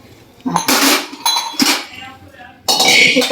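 A pressure cooker lid is closed in a home kitchen with a few sharp metallic clanks and clatters in quick bursts, close and loud, separated by short quiet gaps.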